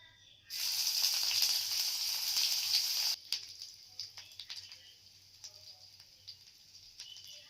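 Grated ginger hits hot oil with a sudden loud hiss that holds for about three seconds, then drops to quiet crackles and a few soft scrapes while tempering for a banana flower dal.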